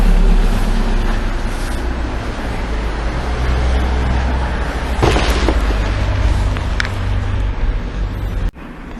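Loud traffic rushes past on a busy road, a dense steady roar with heavy low rumble and a brief sharper burst partway through that fits a loud motorbike going by.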